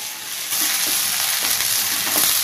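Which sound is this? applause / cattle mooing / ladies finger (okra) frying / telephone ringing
ladies finger (okra) frying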